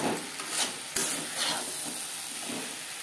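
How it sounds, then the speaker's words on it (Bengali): Small crisp-fried fish being stirred together with eggplant in a pan, giving soft scraping and stirring strokes over a gentle sizzle, with one sharper knock of the utensil near the start; no voices. "বেগুনের সাথে মাছ বেশ ভালো করে মিক্স করে দেব।"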